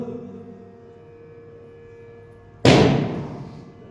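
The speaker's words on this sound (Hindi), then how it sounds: "पीछे कौन सा पटाखा बजा रहे हो?" A single sharp firecracker burst goes off in the background during a religious discourse, a loud sudden crack after a quiet hum that decays over about a second.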